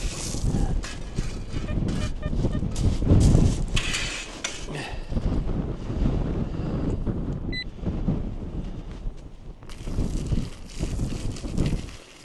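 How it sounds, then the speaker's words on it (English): Strong wind buffets the microphone on a beach in Kent during metal detecting, a loud, continuous gusty rumble that rises and falls, with faint clinks in places. "I'll turn my back to the wind again."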